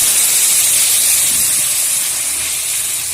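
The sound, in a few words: boiled dal added to hot oil tempering, sizzling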